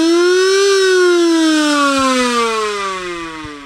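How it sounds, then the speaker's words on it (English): An original 1950s ambulance siren mounted on a band organ wails loud and close, rising briefly then sliding steadily downward as it winds down over a few seconds. "We have an original ambulance siren from a 1950s ambulance."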